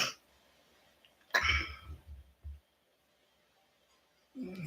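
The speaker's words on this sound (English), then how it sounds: "Sorry, I'm coughing" A couple of harsh, close coughs with a throat-clearing rasp, separated by quiet pauses, then a brief burst of breathy noise at the end.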